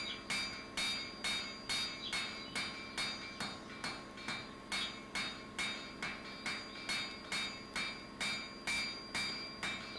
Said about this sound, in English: moving on to a ball peen to get a more even, smoother and rounded shape